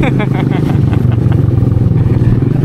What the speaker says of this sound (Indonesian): motor gunung ini dengan ban rantai di belakangnya